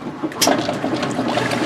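Cold water rushing and trickling steadily into a washing machine as it fills, a continuous close splashing flow with no voices.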